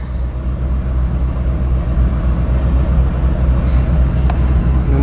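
A Ford truck engine with a tuned carburetor idling with a lope, a steady low rumble close by and running alone without talk.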